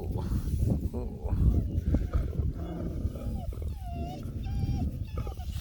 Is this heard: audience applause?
no